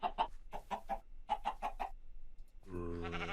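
Chickens in a video game clucking, a series of short, rhythmic clucks close by, followed by a longer drawn-out squawk, with no talk.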